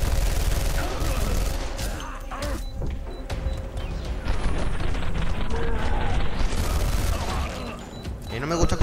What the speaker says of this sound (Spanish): ¡Estas bombas estas! ¡Bum! Bueno, explotó solo, creo.